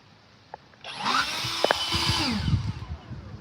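A powerful leaf blower roars up after a quiet moment and holds a loud, steady, broadband rush at full power, with a few sharp clicks near the start.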